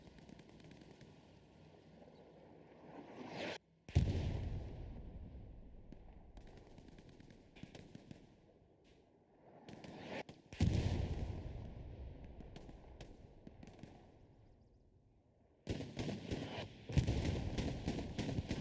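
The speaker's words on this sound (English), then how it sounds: "They should be able to see that machine gun fire" Machine guns fire in the Hell Let Loose battlefield, short loud bursts breaking out in separate clusters, with distant rattles and quieter stretches between them.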